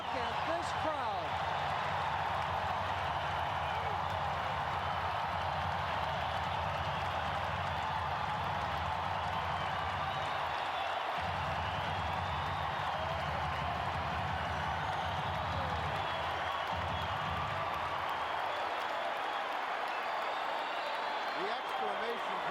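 A basketball arena crowd roars and applauds through a timeout in a 1990 NBA playoff game in Portland, a loud, steady, washing cheer that fills the whole stretch without letting up.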